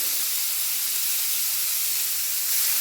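Onions sizzle in hot mustard oil in a pan, a steady, close hiss that stays even and unbroken throughout.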